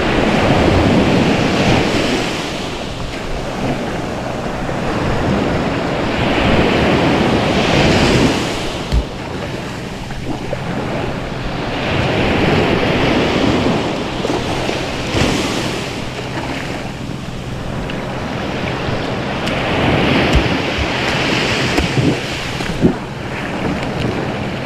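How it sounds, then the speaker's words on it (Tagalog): Ocean waves surge and break near a small outrigger boat on a shore, loud rushing swells rising and falling in roughly three big cycles over steady wind noise. "Oh, may alon man."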